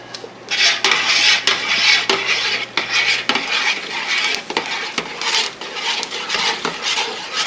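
Dry malt extract is stirred into a home-brew pot before the boil, a loud, close run of repeated scraping and sloshing strokes with metallic clinks against the pot, continuous and rhythmic, with no voices.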